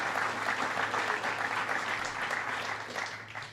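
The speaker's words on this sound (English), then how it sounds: "Would you give him another round of applause?" A crowd at a political healthcare-reform event in Springdale applauds a speaker, giving another round of applause. Dense, sustained clapping from many people fills the whole stretch, thinning slightly near the end.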